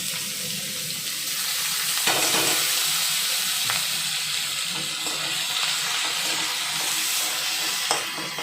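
Onions frying in a small amount of oil, a close continuous sizzle with occasional stirring scrapes and soft clinks over several seconds.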